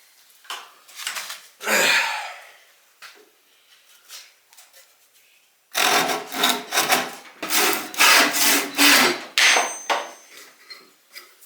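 Handsaw cutting a wooden handle for a railroad spike tomahawk: a few scattered strokes and a pause, then a run of loud, rhythmic rasping back-and-forth strokes close by, some tapping and scraping between.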